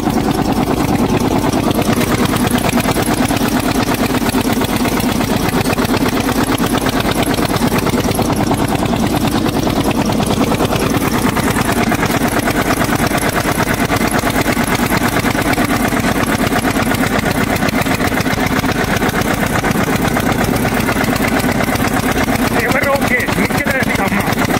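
An Eicher 241 tractor engine runs at a fixed throttle while pulling a cultivator, a loud, steady diesel drone that holds unbroken for the full 25 seconds.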